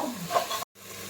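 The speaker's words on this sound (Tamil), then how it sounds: "இப்போ கொஞ்சமாக உப்பு சேர்த்து வதக்கிப்போம்" Fresh green peas sautéing with salt in a pan, a short burst of sizzling and a spoon stirring, close by, broken by a brief silence.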